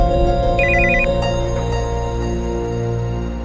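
A telephone ringtone chirps in a short, rapid electronic burst over steady background music in a Taiwanese TV drama scene, with no talking.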